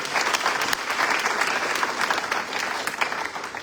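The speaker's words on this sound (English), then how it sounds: "give them a big round of applause" A city council forum audience applauds the youth advisory council, dense steady clapping filling the room at an even, fairly loud level throughout, with no voices standing out.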